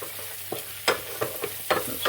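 Onions cooking in a soup pan being stirred, a few distinct scraping strokes at irregular intervals over a soft, steady frying sizzle.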